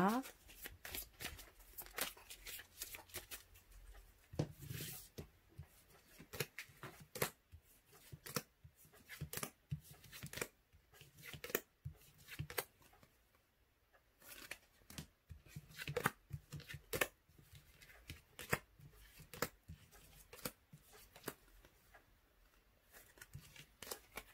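Tarot cards being shuffled by hand in a rapid, irregular run of crisp riffles and flicks over about twenty seconds, close and quiet, with occasional soft speech in the background.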